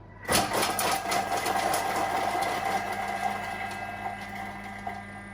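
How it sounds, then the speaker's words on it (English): A kitchen food processor spins at speed 5, chopping onion: a steady, close whirring motor hum that starts abruptly and runs without a break to the end. "We're going to turn the speed dial to 5 for 5 seconds just to chop that onion up."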